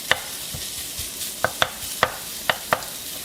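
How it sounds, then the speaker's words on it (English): Bacon lardons sizzle in a pan over medium heat, a soft continuous frying hiss punctuated by several sharp clicks of a utensil stirring against the pan. "In my other pot, I'm going to add my bacon, which is cut into lardons"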